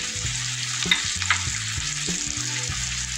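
Spice masala with slit green chillies frying and being stirred in a pan for a summer vegetable fish curry, a steady close sizzle with the scrape of a spatula and a few sharper spits.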